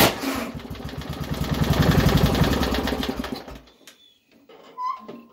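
A small engine on a homemade full steel tube exhaust fires up and runs loud and rattly for about three and a half seconds, then cuts out, leaving faint clicks and a brief squeak in near silence.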